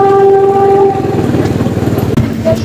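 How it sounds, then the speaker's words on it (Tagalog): A PNR train crosses Ramon Magsaysay Boulevard on the eastbound side, a loud, steady rumble with sustained horn-like tones early on and traffic noise underneath. "may patawid na tren ng PNR"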